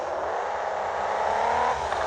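Car driving past on a road, a steady engine whine that swells briefly as the vehicle goes by and then tails off, heard alone over about two seconds.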